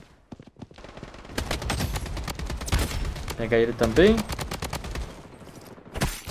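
AK47 bursts in the video game Blood Strike, with rapid sprays and single shots cracking throughout while someone talks over the gunfire.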